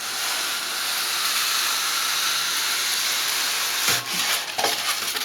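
A homemade milling machine, its motor set to around 9 volts, slices a piece off a block of material, giving a steady close broadband hiss of cutting with a few sharper scraping bursts toward the end.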